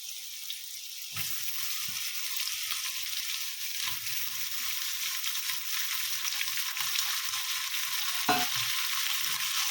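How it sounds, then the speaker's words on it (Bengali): Amudi fish fries in oil with green chilli and garlic, giving a continuous bright sizzle, with several low utensil knocks and scrapes scattered through it and no talking. "মাছটা দিয়ে আমি একটু ভেজে নেব ভালো করে।"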